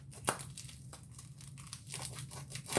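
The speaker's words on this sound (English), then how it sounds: "Got to be careful opening this stuff, because if you can't see like where to cut it" A sealed mail package is opened, giving faint, close crinkling and tearing of wrapping in short irregular rustles, with no talk.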